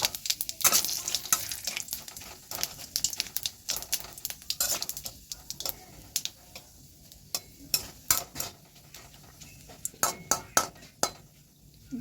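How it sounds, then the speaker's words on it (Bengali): Bay leaves, cumin and dried chilli crackle and sizzle in hot oil for a tempering, with a soft spatter underneath. Scattered close clinks and stirring knocks from a utensil against the pan land irregularly, and no one talks. "তারপরে ওই তেলে এখন তেজপাতা, জিরে আর শুকনো লঙ্কা আমি ফোড়ন দিচ্ছি"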